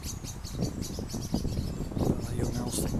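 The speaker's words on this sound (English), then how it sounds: "That blackbird's not happy." Agitated blackbird alarm calls aimed at a young owl, repeated sharp chinks in an uneven rhythm at moderate distance, over a faint background murmur.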